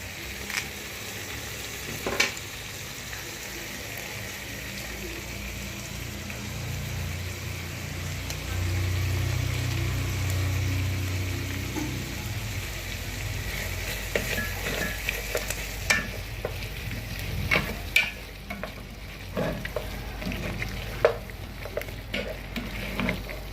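Tomato paste stirred into simmering broth in a pot, a steady close scraping and stirring over a low bubbling simmer, with a few sharper knocks of the utensil toward the end.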